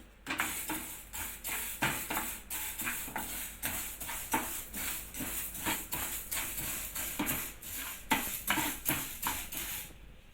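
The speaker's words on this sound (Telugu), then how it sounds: "వీటిని మంచి ఫ్లేవర్, మంచి స్మెల్ వచ్చే వరకు బాగా ఫ్రై చేసుకుంటాం" Coriander seeds dry-roast in a pan over a low flame for sambar, giving a steady run of light rattles and crackles as they are stirred and tossed, close and moderately quiet, with no talk.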